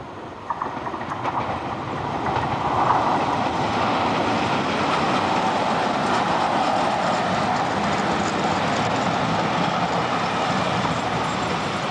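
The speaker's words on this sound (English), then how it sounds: "I've got a nice engine coming up, so it's the last of the Hadfield units" A train made up of the last of the Hadfield units rolls past on the Fallowfield loop line in Manchester, rising to a loud, sustained wheel rumble with a faint clickety-clack that holds to the end.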